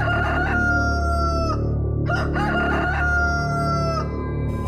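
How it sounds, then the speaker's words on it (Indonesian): A pet rooster crowing loudly and close, several drawn-out cock-a-doodle-doo calls one after another, strident and harmonically rich, with no talking over them. "berisik amat sih ayam gua"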